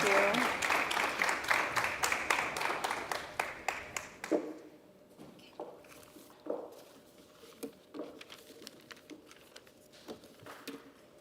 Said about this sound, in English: give a round of applause to our panelists